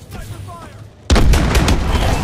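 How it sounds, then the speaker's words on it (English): Bombing-run airstrike in the Call of Duty Advanced Warfare video game, a sudden loud blast that breaks in halfway through and settles into a sustained roar of explosions, following quieter game ambience. "Another bloody bombing run."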